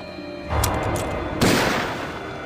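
A gunshot in a war film about Japanese soldiers and villagers, a heavy booming blast with a long rumbling tail and a second loud burst following it, loud and dense, with no speech.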